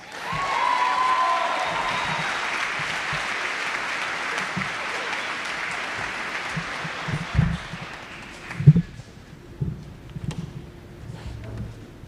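An audience at a graduation ceremony applauds the graduates, a long steady patter of clapping that gradually fades out, with a few scattered louder claps and thumps toward the end.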